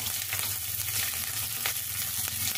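Green chillies and onion frying in hot oil with roasted peanuts, a soft, continuous sizzle with faint stirring clicks, steady and close, no voices.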